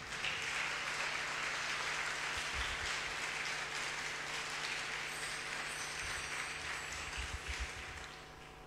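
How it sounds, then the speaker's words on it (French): An audience at an international charismatic church meeting applauds the musicians, a steady wash of clapping that holds throughout and fades slightly toward the end, with no voices over it. "On peut applaudir les musiciens."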